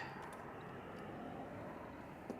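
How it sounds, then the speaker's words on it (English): A jet airliner at Manchester Airport roars as a faint, steady distant rumble throughout, alone with no talk. "Here's the jet that is easy."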